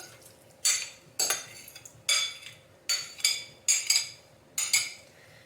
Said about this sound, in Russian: Все хорошо перемешиваю